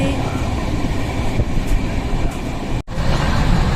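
Panchaganga Express train running after leaving Murudeshwar, a steady loud rumble and rattle of wheels and carriage heard from on board, with one brief dropout near the end.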